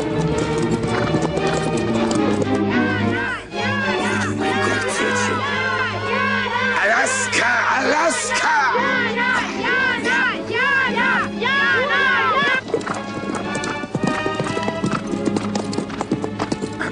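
Horse hooves clopping steadily on hard ground with an occasional whinny, near and loud, while a crowd murmurs and people talk over the top.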